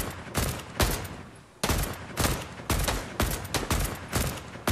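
AK rifle fire in Fortnite, sharp repeated bursts of close, loud gunshots in uneven clusters, with short pauses between volleys.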